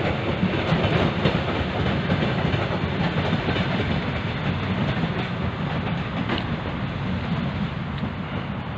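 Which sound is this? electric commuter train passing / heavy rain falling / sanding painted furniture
electric commuter train passing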